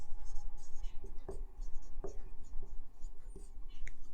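Chalk or marker scratching across a board during a Class 10 physics lesson on lenses, a steady run of short strokes with a few sharper taps, heard close under quiet room noise without clear talk.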